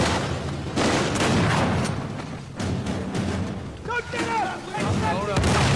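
Loud, close explosions and bursts of gunfire come from a grenade launcher and enemy guns in Uncharted 4: A Thief's End, set in Madagascar. Repeated booms and blasts crowd the moment, with someone talking over the combat.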